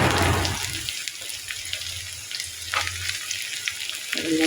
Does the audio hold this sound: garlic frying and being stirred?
yes